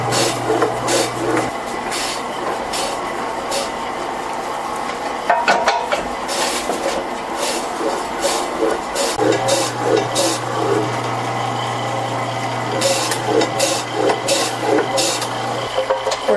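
An electric slicing machine cuts potatoes to about 1/8 inch thick, giving a steady low motor hum with scattered clinks and clatter. The hum drops away partway through, then starts up again.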